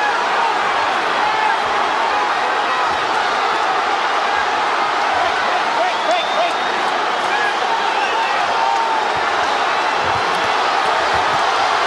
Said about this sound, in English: And the crowd stands and applauds.